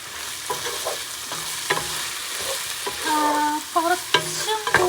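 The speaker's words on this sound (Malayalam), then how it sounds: "അപ്പോൾ നമ്മുടെ ഉള്ളി ഫുള്ള് വഴഞ്ഞ് വന്നിട്ടുണ്ടാവണം" Onions are sautéed in a pan for prawn biryani, with a low sizzle under irregular scrapes and clinks of a spoon stirring against the metal, close up and without talk.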